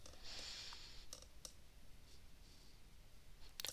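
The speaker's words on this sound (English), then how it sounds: "So I'll just head over to install now" Computer mouse clicks sound as a few sharp, faint taps at a desk, spaced irregularly through a quiet background with a light hiss.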